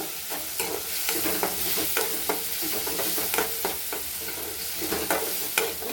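Bitter gourd salted and dusted with turmeric fries in a pan, a constant sizzle broken by frequent rhythmic scrapes of a spatula stirring the pieces.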